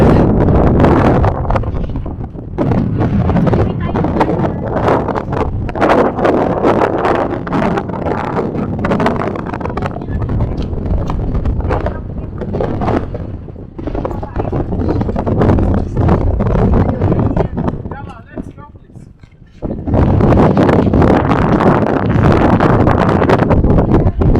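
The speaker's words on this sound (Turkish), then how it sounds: "Rüzgar çok iyi geldi." Strong wind in Ouarzazate, Morocco buffets the microphone with a continuous roaring rush that eases briefly near the end, then returns.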